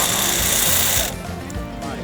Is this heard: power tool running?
yes